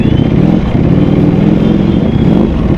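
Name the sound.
Ducati Panigale V4 motorcycle engine and exhaust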